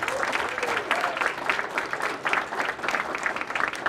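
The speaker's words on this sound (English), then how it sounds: "Give everybody a round of applause for coming tonight." Audience applause closing an evening mentoring program presentation on environmental justice, a rolling wave of many clapping hands at moderate volume with faint voices mixed in.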